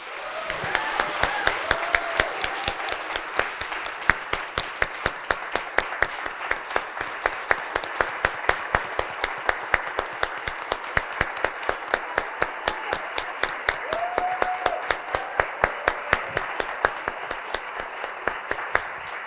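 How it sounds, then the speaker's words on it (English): Audience applause at an evening talk, steady dense clapping that holds for the full stretch at moderate loudness, with a few faint voices underneath. "can we give one more round of applause?"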